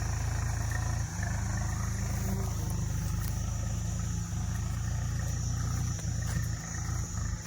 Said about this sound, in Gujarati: જો ટ્રેક્ટર ખેંચીને જાય છે.